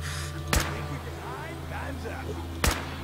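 Two sharp, loud gunshot blasts from a firefight in the video game Fallout 4, spaced about two seconds apart over a steady low background hum with faint game effects.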